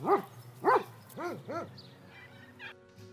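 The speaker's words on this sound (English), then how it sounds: "These dogs are trained to protect Middle Island, a small rocky outcrop on the coast not far from here that's home to a colony of little penguins." Guard dogs trained to protect a little penguin colony on a small rocky coastal island bark four times in a quick, loud, close series, then fall silent as faint ambient noise remains.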